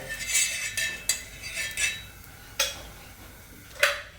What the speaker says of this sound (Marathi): त्यासाठी पहिल्यांदा तव्याला थोडंसं तूप लावून घ्या